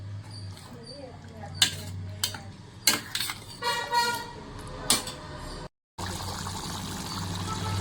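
Kaju paneer curry stirred in a pan with kasuri methi, utensil scrapes and clinks against the metal at irregular intervals over a steady low hum, with a brief dropout near the end.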